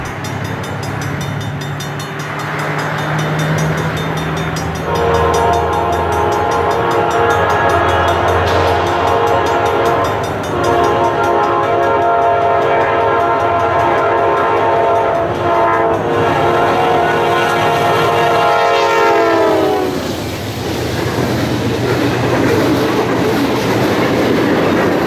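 A freight train rolls past a trackside defector in Northeastern Illinois, a long 256-axle train at about 58 mph, its loud continuous rumble and horn-like tones sustained close by, then tapering near the end.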